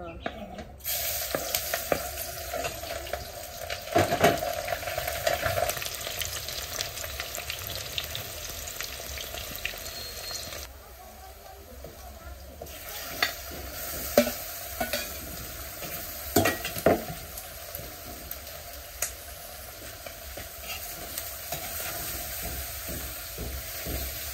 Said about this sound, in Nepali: साथीहरू म यहाँनिर मसला भुट्दैछु